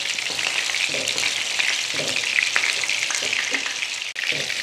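Food for a McDonald's-style cheese omelette burger fries in a pan with a constant bright sizzle and occasional stirring scrapes, and no voices over it.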